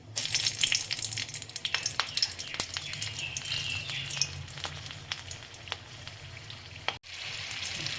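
Two green chillies with their tips broken off fry in hot oil alongside a large cardamom: a crackling sizzle with scattered sharp pops and spits, steady and close, then a brief dip near the end, with no talking.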